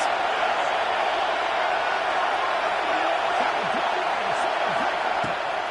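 A steady, dense roar from a stadium crowd urging on the defense in a college football video game runs the whole time, with a commentator's voice speaking over it.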